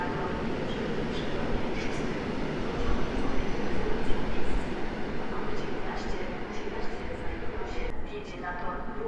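A passenger train bound for Sochaczew pulls out of Warszawa Zachodnia station, a continuous heavy rumble of wheels and carriages holding steady throughout, swelling slightly midway.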